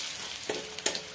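Garlic frying in a pan for a home-cooked Odia meal, a soft steady sizzle with a couple of sharper crackles and utensil taps near the end, brief and close.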